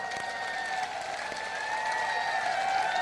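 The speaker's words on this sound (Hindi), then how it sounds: "इसके खिलाफ देखिए ताली बज रही है।" An audience at a political speech in India claps in steady, continuous applause that swells slightly toward the end, heard from some distance.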